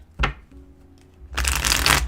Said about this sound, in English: Let's put your oracle cards to the side. I want to shuffle here live with you.